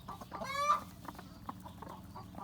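A black copper rooster gives a short crow-like call, fairly faint and set back, followed by scattered soft clucks and rustling in a quiet farmyard.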